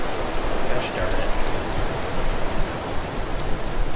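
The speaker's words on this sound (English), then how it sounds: "Apparently there's different levels of rain. I don't remember it ever raining quite this hard." Heavy in-game downpour in the survival game Starforge, a dense, loud, unbroken hiss of rain that stays steady throughout.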